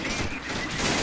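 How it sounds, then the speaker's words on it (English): Machine-gun fire from a Hetzer tank destroyer in Men of War: Assault Squad 2 rattles in a dense, continuous burst, loud and close, during a 1945 German defense of Foy in the Battle of the Bulge. "Hetzer's machine gun is doing quite a bit of work"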